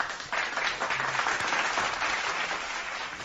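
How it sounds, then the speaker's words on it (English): Applause from a crowd at a New York Knicks basketball game, a dense, steady wash of many hands clapping that holds for a few seconds at moderate level. "Round of applause for Julius."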